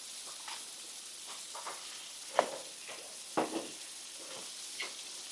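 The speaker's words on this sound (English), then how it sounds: "This is just a hand-sliced potato going down." Hand-sliced potatoes cook on a flat-top griddle with a faint, soft sizzle, broken by a few light taps and scrapes.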